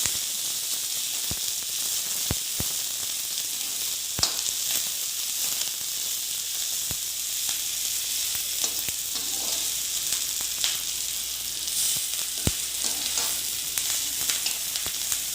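Finely chopped onions fry in a pan for a paneer and capsicum curry, giving a steady close sizzling hiss broken by sharp scraping clicks as a spoon stirs them.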